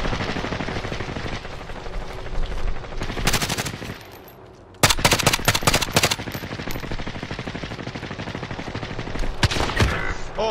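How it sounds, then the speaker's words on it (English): Rapid automatic gunfire from an opposing team in a shooter video game, with dense bursts of loud shots, a brief lull, then sustained heavy firing again. "There's another team firing at them."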